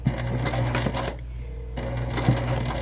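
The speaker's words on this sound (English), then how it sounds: "We'll do back stitch just to make sure that everything's locked in." A sewing machine back stitching the seam of a crossbody bag, its motor whirring in short bursts with rapid needle clatter and a brief pause midway, close and loud.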